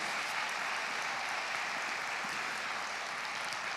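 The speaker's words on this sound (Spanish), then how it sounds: "Dale un aplauso a ese tesoro nuestro que es Jesús." A festival crowd at a live Christian worship event applauds in a steady, even wash of clapping that sounds faint and distant, with no voices on top.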